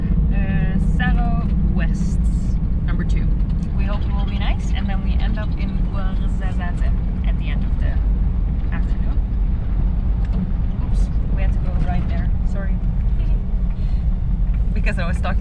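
A car drives a road route in Morocco, its steady engine and road rumble running continuously underneath people talking throughout.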